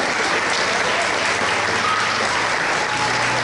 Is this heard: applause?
yes